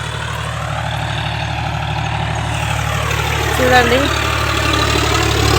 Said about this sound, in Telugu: చూడండి, ట్రాక్టర్ దున్నుతుంది.